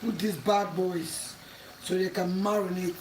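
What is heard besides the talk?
No distinct noise like a dog, phone or traffic.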